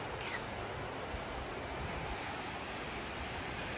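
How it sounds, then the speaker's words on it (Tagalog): Steady rushing mountain water flows continuously near the Swiss village of Les Diablerets, a constant broadband hiss like a stream or small falls nearby, with no speech. "Umaagos ang tubig."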